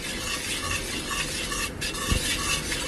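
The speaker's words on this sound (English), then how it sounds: "Just shake it well, stir it well." A spoon stirs curd garlic chutney in a bowl, a close, continuous wet churning with a soft clink partway through.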